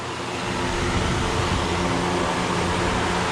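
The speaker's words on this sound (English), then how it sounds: "I'm sorry for the fan noise" Cooling fan running at a dyno session, a steady loud broadband whoosh with a low mechanical hum that holds even and unbroken throughout, with no voices over it.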